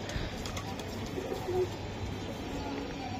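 Racing pigeons coo softly in a loft, a few low murmuring calls under steady background noise.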